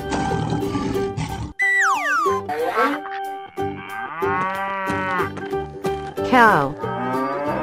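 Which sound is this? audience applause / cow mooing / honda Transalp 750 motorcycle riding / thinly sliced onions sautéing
cow mooing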